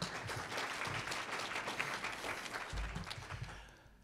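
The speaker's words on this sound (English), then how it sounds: "Let's give her another hand clap." Audience applause at a coalition gathering, honoring a city mayor: dense, steady clapping from a crowd that holds for several seconds and then tapers off near the end.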